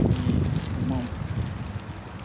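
Strong wind buffets the outside of a parked Kombi van, a steady roaring rush with gusty fluctuations, heard under a person talking.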